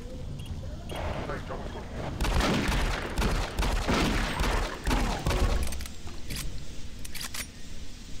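Gunfire and fireball impacts striking the player in the first-person shooter Doom 3: BFG Edition, a dense run of sharp bursts and crackling hits, loud and close, with a voice talking over parts of it.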